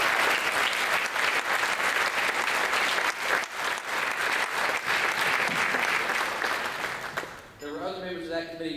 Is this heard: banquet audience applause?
yes